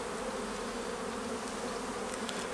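Honey bees in an open hive during an inspection make a steady, dense, close buzz, a continuous drone with no pauses.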